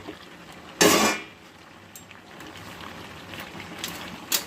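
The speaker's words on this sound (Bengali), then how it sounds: "আর ভালোভাবে মুড়োগুলোকে সবজির সাথে মিশিয়ে দেব।" A spoon scrapes and clatters in a pot as fish heads are stirred into a vegetable curry: one sharp, loud scrape early on, then faint, scattered clinks and soft stirring noises.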